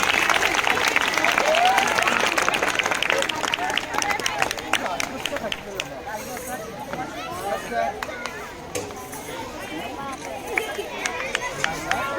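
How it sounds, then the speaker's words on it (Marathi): Students applaud at a school prize-giving ceremony, with a dense burst of clapping that is loudest in the first few seconds and then thins to scattered claps under crowd murmur. "विद्यार्थ्यांनी टाळ्या"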